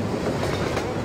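Train in Half-Life 2 rumbling past close by, a dense continuous roar of rolling wheels and rattling cars filling the whole second without pause.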